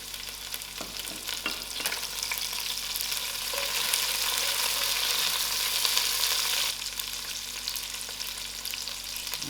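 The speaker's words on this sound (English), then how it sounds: "The garlic is almost fried out, so I'm adding in my curry leaf and my thyme" Garlic fries in hot oil as curry leaf and thyme go into the pan, a steady close hiss that swells into a louder burst of sizzling for several seconds, then settles back with faint stirring.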